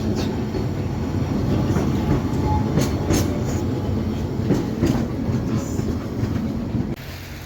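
A small children's railway train in Kyiv rolls steadily along the rails, wheels clacking rhythmically with a continuous rumble, fairly close, before the noise drops slightly near the end.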